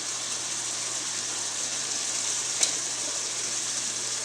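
Calamari rings and tentacles sautéing in a pan with chilli powder, giving a steady, even sizzle throughout with one brief sharp crackle midway.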